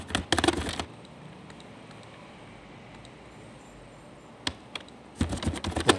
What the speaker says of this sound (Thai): แล้วก็พิมพ์ข้อความนะครับ